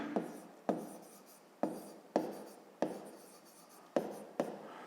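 Pen or chalk strokes scratch out math notes for a fifth-grade problem, a steady series of close, scratchy writing sounds, each stroke starting sharply and fading, with no talk.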